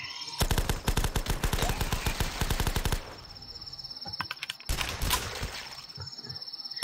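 Automatic gunfire in The Last Stand zombie video game, rapid bursts of dozens of sharp shots, a pause, then another burst, loud and close over a faint high electronic tone.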